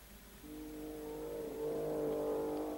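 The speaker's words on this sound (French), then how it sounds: "c'est au tour des F1 de s'élancer pour les tours de qualification" Distant early-1960s Formula One race car engines drone and rise in pitch as they accelerate during qualifying, faint and steady with a slight swell toward the end.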